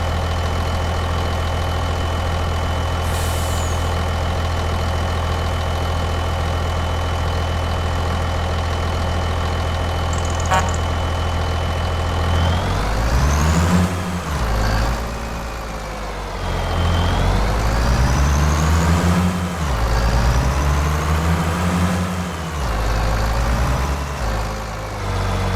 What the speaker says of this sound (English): That is a big old truck for not a whole lot of capacity.